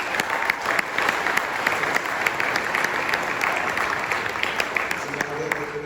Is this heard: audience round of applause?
yes